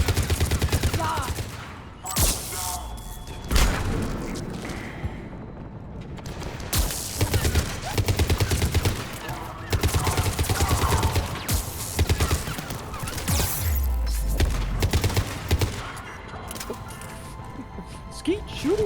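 Suppressive pellet-weapon fire rattles continuously in a Mass Effect 3 firefight, dense bursts with short gaps, loud and close, while voices talk over parts of it.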